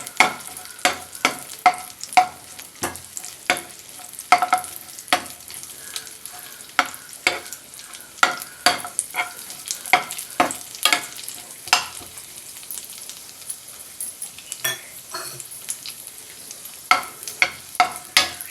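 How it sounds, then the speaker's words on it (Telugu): Raisins frying in a pan with cashews for atukula laddu, with a gentle sizzle under frequent scraping stirs of a spoon that click and rattle in a quick, uneven rhythm, close and alone. "ఇప్పుడు దీనిలోనే ఎండు ద్రాక్ష వేసుకుందాం."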